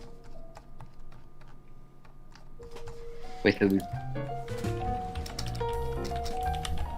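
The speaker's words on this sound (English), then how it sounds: "I hear you typing" Keyboard typing from a gamer at a tournament comes through as scattered light ticks and taps under voice chat, with a brief louder clatter midway and a person speaking.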